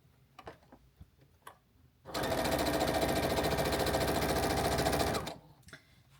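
A sewing machine stitches a plain-colored charity quilt block in one steady, fast, whirring run of about three seconds. Faint handling taps come before and after it.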